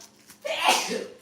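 A single close sneeze bursts out loudly after a brief inhale, a breathy rushing blast that trails off in under a second.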